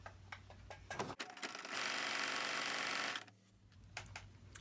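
A sewing machine stitches around a machine-appliqué scarf outline on a Christmas mug rug, with a close, steady whirring run of about a second and a half between scattered soft clicks and handling taps, no talking.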